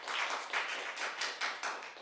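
Applause in a council chamber during a Flagstaff city council work session, a few seconds of moderate, steady clapping from a small group, fairly close.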